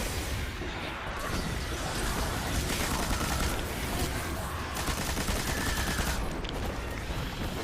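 Sustained automatic machine gun fire in the video game Destiny, a dense continuous rattle of rapid shots with crashes mixed in, steady and loud throughout.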